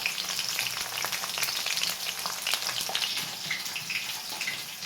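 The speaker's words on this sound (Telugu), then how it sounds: "దొండకాయ పచ్చిమిర్చి వేగేలోపు మనం టమాటాలు కట్ చేసుకున్నామండి" Ivy gourd and green chillies fry in a pan, giving a continuous close sizzle with bright crackling spatters at an even level throughout.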